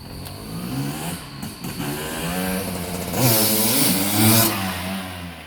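A 1999 Honda CR250R two-stroke motorcycle with original chain, sprockets and tires idles crisply, then revs up sharply twice with rising and falling engine pitch, sounding loud and close.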